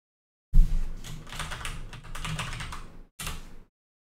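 Rapid clattering keystrokes on a computer keyboard run steadily for about two and a half seconds, stop briefly, then return in one short final burst. The typing is close and clear, with no talking.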